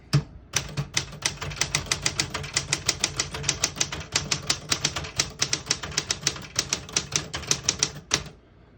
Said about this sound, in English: We're gonna type a sentence with red.